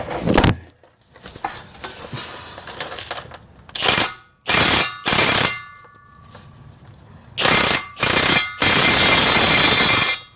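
A 1/2 inch impact wrench with a swivel works on a Ford Edge driveshaft, firing in several loud, close bursts of rattling hammering separated by quieter pauses and clinks.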